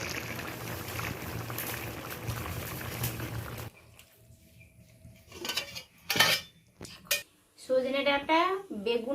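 A pot of prawn and drumstick curry with eggplant, potato and neem being lifted off the stove: close clattering and scraping of metal cookware, loud at first, then sparse clinks and knocks with a voice talking near the end.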